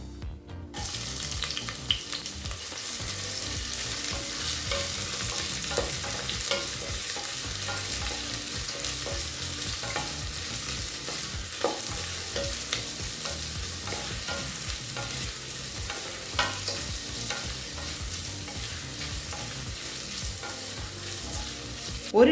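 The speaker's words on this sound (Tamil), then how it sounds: "அடுத்து நீளமாக நறுக்குன்னு 2 வெங்காயத்தை சேர்த்துக்கலாங்க." Two long-sliced onions frying in a pan for a spinach rice dish, a steady crackling sizzle under repeated scraping and stirring, with occasional clinks of the utensil against the pan.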